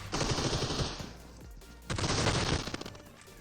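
Automatic gunfire in the battle royale game PUBG Mobile: two loud, rapid bursts close by, each lasting about a second, separated by a short pause.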